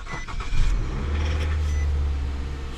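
A used car at a dealer auction cranks and catches, the starter's whir giving way to a steady, loud idle that holds close by without any revving.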